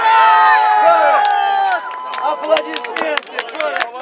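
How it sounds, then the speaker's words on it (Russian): Crowd at an outdoor Maslenitsa festival on a city square, cheering and whooping with sustained shouts that give way to scattered clapping and sharp individual cries, loud and close. "Аплодисменты."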